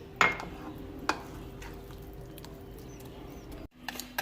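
Milk is stirred into egg roll batter in a bowl, a light scraping and swishing with a few sharp clinks of the utensil, close and fairly quiet.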